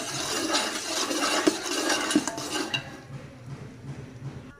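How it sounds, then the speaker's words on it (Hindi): Ghee being stirred into melted sugar syrup in a pot for sweet zarda rice, with a steady run of metal spoon scrapes and clinks against the pot, fairly close, fading to a quieter soft stirring toward the end. "तो घी डालने के बाद अच्छे से मिक्स कर देंगे ताकि हमारी चाशनी अच्छे से रेडी हो चुके।"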